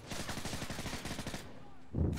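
Gunfire in the video game Modern Warfare 3: a rapid automatic burst of shots for over a second, then a short pause and a heavier thud near the end, moderately loud with no talking.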